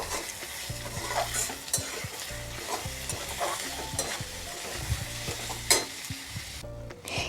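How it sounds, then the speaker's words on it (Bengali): Ground spices such as cumin and turmeric with salt frying in a pan for stuffed bitter gourd, a steady close sizzle broken by repeated scraping stirs throughout, with no voices. "এবার এই সব মশলা সুন্দর করে একটু ভাজা ভাজা করে নেব"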